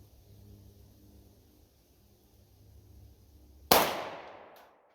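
A single sharp gunshot from a Polymer 80 pistol with a ported barrel firing Fiocchi Dynamic Defense 124 grain jacketed hollow point rounds, loud and close, cracking out of quiet background hum and ringing off briefly.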